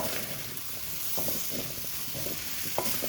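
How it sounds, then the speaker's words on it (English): Eggplant and zucchini for a vegan vegetable curry sizzle steadily in a pan, with a constant frying hiss and occasional scraping stir clicks, close and moderately quiet with no talking. "So the eggplant and the zucchinis go in now. Give it a stir."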